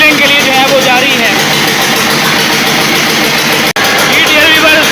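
A Peter diesel engine running at a dusty work site, a loud steady close drone and rumble throughout, with one brief dropout near the end.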